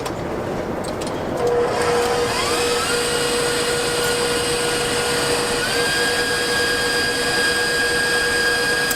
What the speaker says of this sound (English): I really don't like this mixer because it doesn't reach all the way to the bottom